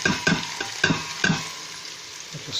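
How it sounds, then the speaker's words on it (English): Onions frying in a pan while being stirred, with sizzling under repeated scraping strokes roughly every half second, close and clear, no talk, while cooking stewed chicken for curry. "So the onions are in, just give them a stir"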